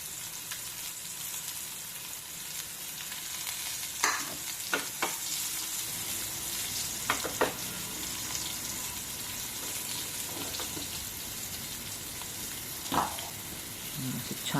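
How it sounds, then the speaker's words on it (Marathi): Bombay duck (bombil) fish frying in hot oil in a pan, a steady close sizzle throughout with a few brief clinks and scrapes of a utensil. "आणखीन 2 बोंबील मी याच्यात फ्राय करायला टाकते तेलात."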